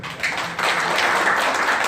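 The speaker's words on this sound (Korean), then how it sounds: "박수 한번 해주세요" Congregation applauding at a church sermon, a steady dense wash of clapping that swells after a moment and holds loud to the end.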